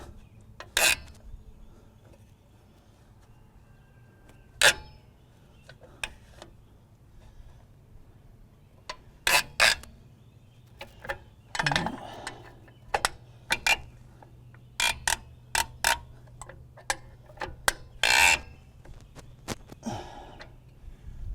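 Drum brake adjusters are being set on a 1931 Plymouth, heard as scattered clicks, scrapes and metallic taps against a quiet background, close by and fairly faint.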